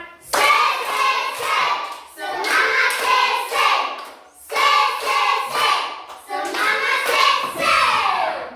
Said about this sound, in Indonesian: Satu kali tepuk semangat. Dua kali tepuk semangat. Banyak kali tepuk semangat.